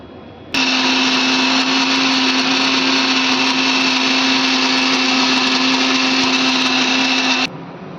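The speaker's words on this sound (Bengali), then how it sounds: "এটা আমি ভালো করে মিক্সিতে পেস্ট করে নেব।" A kitchen mixer grinder pulverises ginger and cumin into a wet paste, a loud steady motor whine running continuously for about seven seconds before cutting off abruptly.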